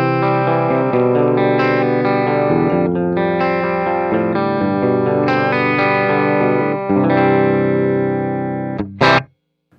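Electric guitar through an Axe-Fx II set for a clean tone with a TAF Mars 112 Mix cab and hot pickups that add a little grit. Strummed chords and picked notes ring out close and loud for nearly ten seconds, then end with a short sharp noise.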